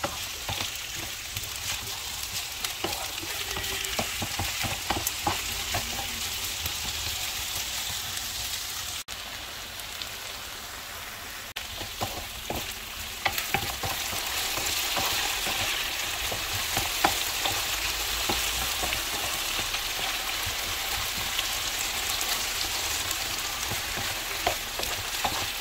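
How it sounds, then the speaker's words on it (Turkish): Diced potatoes and onions fry over medium heat in a pan, with a continuous loud sizzle and repeated scraping stirs throughout and a short lull partway through. "Orta ateşte biraz karıştırarak kavuralım."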